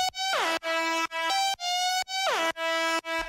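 A synthesized siren pluck built in Serum repeats in a steady pattern: bright buzzy tones that dip and glide, each cut short by brief gaps. It plays alone, clean and loud.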